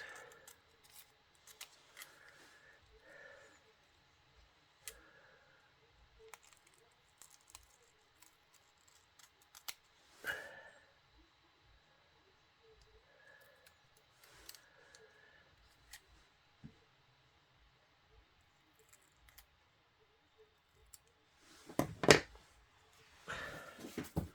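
Scissors snipping through paper at a desk, a scattering of quiet close cuts and rustles at an irregular pace, ending in a louder flurry of handling noise, no talk.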